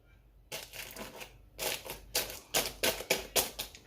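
Crunchy bites into a crispy Princes chicken and mushroom pie, a short crackle followed by a run of sharp, close chewing crunches in a steady rhythm, with no talking.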